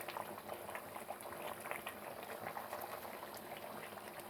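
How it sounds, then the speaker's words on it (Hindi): Chicken korma masala bubbling and frying in oil in a pot, a dense, even crackle and bubbling texture throughout at low level, no talking. "मैं इसे अच्छी तरह भून लूँगी।"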